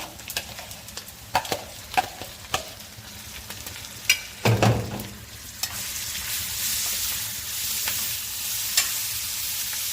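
Kapenta fish frying with onions in a pan: light clicks and taps of stirring at first, then a steady crackling sizzle swells and holds close and clear, no talking.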